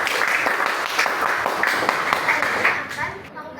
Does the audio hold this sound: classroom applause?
yes